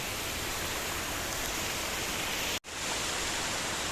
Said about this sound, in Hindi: वो है उधर वाटरफॉल